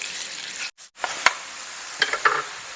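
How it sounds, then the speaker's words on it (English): Sausage with pepperoni sizzling in a cast iron skillet while being chopped and stirred for deep dish pizza, a steady close sizzle broken by a brief gap, with sharp metallic scrapes and taps of the utensil. "So I just want to kind of chop this up as I go along and get it nice and brown."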